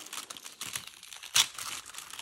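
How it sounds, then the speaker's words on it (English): Tissue paper from a product package crinkles and rustles softly at close range, with one sharper, louder tear near the middle of the brief stretch. "Ooh, and I'm tearing the tissue paper."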